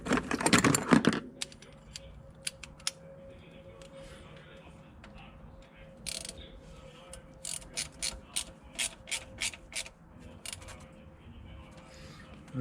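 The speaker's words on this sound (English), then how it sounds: "There's my ratchet." A hand ratchet clicks in bursts while snugging a drain plug on the CVT of a 2012 Nissan Versa, the crisp repeated clicks coming up close in the second half after a brief rustle of work under the car.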